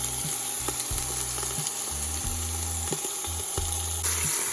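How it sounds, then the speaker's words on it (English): A seasoned beef roast sears in an Instant Pot, a continuous close sizzle with occasional clicks and knocks, alongside a low electronic hum. "I'm searing it on all sides."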